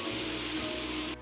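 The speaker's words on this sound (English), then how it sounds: "now let's stir fry the green peas in the same skillet" Green peas stir-frying in a skillet, a brief, loud, bright sizzle and hiss that cuts off abruptly after about a second.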